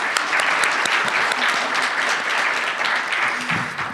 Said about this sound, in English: let's give another big round of applause to our first panel and to the tech for hosting this incredible event